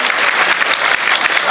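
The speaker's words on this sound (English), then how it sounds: "huge rounds of applause to this audience" Energetic audience applause at an AI congress panel discussion, loud, dense and steady throughout with no talk over it.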